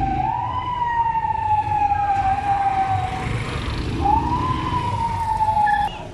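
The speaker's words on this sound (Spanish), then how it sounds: "se escuchó las patrullas de la policía en una persecución que terminó en un centro comercial de Solanda" Police patrol car sirens wail during a chase through Solanda, Quito, two long rising-and-holding tones sweeping up and sustaining, loud over steady low road and traffic rumble, with no talking.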